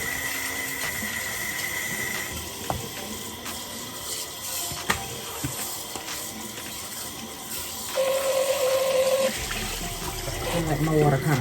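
Hot water runs steadily from a bathroom tap for face washing, with a continuous rushing splash that shifts in tone as the flow changes near the end.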